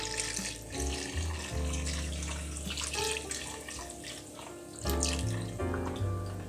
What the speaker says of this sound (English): Some water to cover the meat.